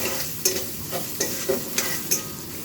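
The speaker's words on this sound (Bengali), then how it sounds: "নিরামিষ ডালে যদি তুমি নারকেল কোড়া ফোড়নে দাও" Grated coconut sizzling in tempering oil with mustard seeds and cumin for a lentil dal, close and steady, broken by a spatula knocking against the pan about every half second.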